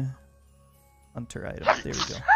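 A single sharp sneeze bursts out after a near-silent pause, followed by someone talking.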